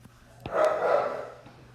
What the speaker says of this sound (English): you hear my dogs playing in the background